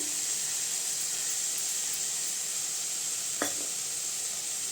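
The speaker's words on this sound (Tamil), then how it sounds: "ரெண்டு நிமிஷம் மட்டும் அப்படி அடுப்பு சிம்மில் வச்சு கிண்டி விட்டுக்கலாங்க" Broad beans with chilli powder stir-frying in a pan over a low flame, a steady soft sizzle and hiss throughout with one brief scrape of stirring near the end.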